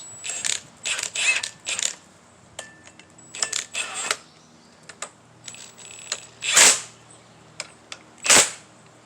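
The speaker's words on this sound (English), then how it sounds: "So, got my impact ready." An impact wrench runs on the axle bolts of a 1978 Pontiac Firebird in short rattling bursts with quiet pauses between them, ending in two longer, louder hammering runs.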